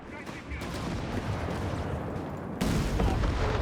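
Tank and artillery gunfire from a Company of Heroes 3 match, with a Crusader Mark III firing its 6-pounder gun, heard as a dense, continuous stream of booms and shots that grows louder near the end.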